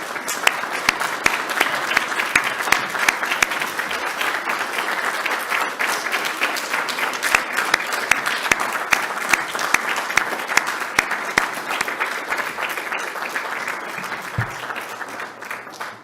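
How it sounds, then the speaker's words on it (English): Sustained applause from a standing audience at a Royal College of Physicians and Surgeons of Glasgow fellowship ceremony, dense continuous clapping with crisp individual claps, steady and fairly loud for the whole stretch. "let's give them a big round of applause."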